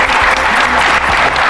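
Loud, dense applause from a studio audience at a reality show, sustained clapping throughout, with no talk.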